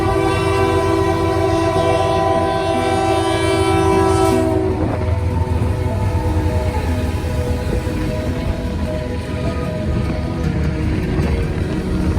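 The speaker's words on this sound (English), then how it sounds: "next train would be M347 with the Citirail leader" CN freight train M347, led by a Citirail locomotive on the Iron Range, sounds a loud multi-tone horn blast, then rumbles past up close with a heavy, steady roar and rattling wheels.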